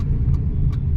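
Maruti Alto 800 car engine idling on CNG, a steady low rumble with no talk, and two faint brief higher blips standing out over the continuous engine hum.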